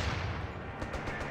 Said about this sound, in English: Enemy HMG has us in their sight!